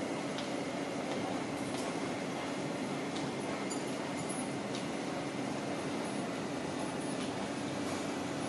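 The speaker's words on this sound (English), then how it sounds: "The train to Wukaisha is arriving." An MTR SP1900 metro train runs along the line, a continuous loud rumble of wheels and carriage noise with faint periodic clicks, heard from inside the train.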